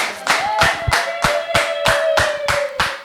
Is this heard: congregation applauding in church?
yes